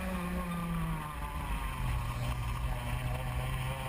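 Several racing karts at an SKUSA SpringNationals Tag Senior race pull away from the start, a steady, loud, buzzing drone of small engines filling the whole stretch with overlapping engine tones.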